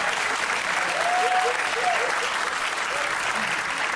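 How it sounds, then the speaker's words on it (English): A live audience at a Christmas-themed comedy show in Los Angeles claps steadily, a dense, even wash of applause filling the whole stretch with a few faint voices and cheers mixed in. "Give yourselves a round of applause."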